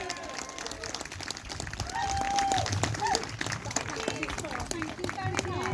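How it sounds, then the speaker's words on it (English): A small crowd at a vanlife gathering with friends and a raffle claps in a round of applause, loose irregular clapping mixed with chatter and voices throughout. "Please give them a round of applause."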